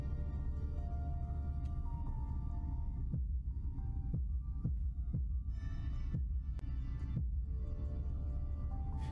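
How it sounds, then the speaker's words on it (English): Heartbeat heard through a stethoscope on a statue in the horror game Tormented Souls: a sequence of slow, separated low thumps in a short pattern over a steady dark ambient hum, with no talking. "So you have to memorize that heartbeat"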